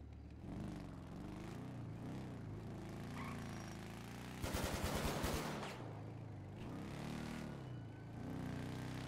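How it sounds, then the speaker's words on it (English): Rapid gunfire bursts out in a GTA V FiveM roleplay scene, a short fast clatter of shots standing out from a low, faint background of engine hum and ambient noise. "Just fire your gun."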